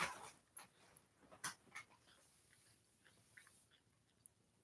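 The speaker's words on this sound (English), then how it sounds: "Are you coming in, dumpster dog?" Dog panting and whimpering indoors, with soft scattered breathy pants and short whines close by in an otherwise quiet room.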